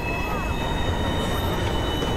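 Train ride in the video game Watch Dogs, a steady broadband rumble with faint high tonal whine, continuous and fairly loud throughout with no distinct clacks.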